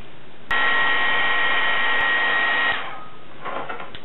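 A heat tool blows loudly and steadily while melting Forest Green embossing powder on a Christmas craft panel, with a whining hum that runs for about two seconds and then cuts off.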